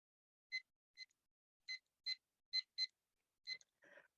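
A workout interval timer beeps during a kickboxing warm-up, sounding a series of short, clean electronic chirps at uneven spacing, quiet and alone with no voices, followed by a brief softer rustle at the end.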